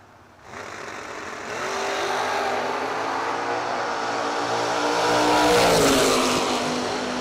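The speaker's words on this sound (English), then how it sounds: "1978 Camaro against the 84 Buick Regal of Austin Lenz." Drag racing at a bracket event as a 1978 Camaro runs against a 1984 Buick Regal, engines roaring up loudly after a quiet start and holding a strong revving drone that swells near the end.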